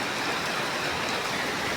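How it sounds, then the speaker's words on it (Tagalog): Steady rain falling outdoors, a continuous dense hiss of drops on surfaces with no breaks, fairly loud and close throughout. "Palagi na lang umuulan dito."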